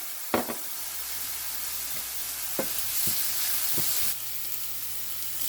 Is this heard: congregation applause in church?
no